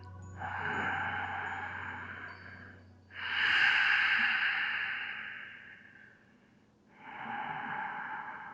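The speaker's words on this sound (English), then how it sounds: "Taking 5 to 6 really deep, slow breaths" Deep, slow breathing during a yoga session, three long airy breaths heard close up: an exhale, a fuller inhale, then another exhale, separated by brief quiet pauses.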